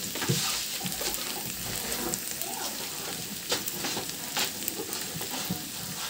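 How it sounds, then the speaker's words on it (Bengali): Lightly fried potatoes sizzle in a pan while salt and spices are added and stirred in for a spicy tangra fish curry, a steady crackling hiss with occasional scraping stirs and no voices. "দেখো আলুটা আমার হালকা ভাজা হয়ে গেছে"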